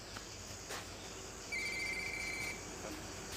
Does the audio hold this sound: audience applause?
no